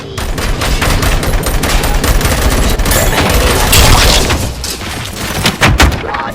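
Heavy gunfire in the video game Robocop Rogue City, a dense, loud barrage of overlapping shots and automatic bursts that continues without pause, with a few sharper cracks near the end and no talking.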